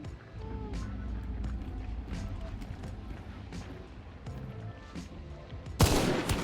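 Gunfire rings out in Hunt, an extraction shooter video game: scattered distant shots and rumbling over a steady background, ending with a louder, closer burst of fire.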